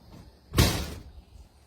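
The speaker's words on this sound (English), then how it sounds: "Go out the door." A door is pushed open to step outside, giving one short whooshing slide-and-bump that rises and fades in under a second, with quiet room tone around it.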